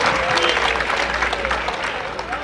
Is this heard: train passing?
no